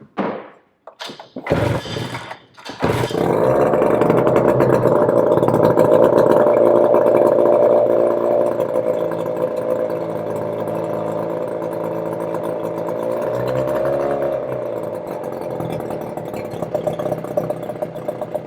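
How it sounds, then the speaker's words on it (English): A Mercury 110 9.8HP outboard motor sputters with a few rough pulls and coughs, then catches and runs steadily and loudly close by, easing slightly toward the end. "That's the first time that's even spluttered and it just ran."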